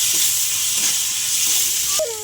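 A spice mixture of chilli, ginger and garlic paste with salt, turmeric and red chilli fries in a pan while being stirred, a steady close sizzle and hiss with a brief scrape near the end.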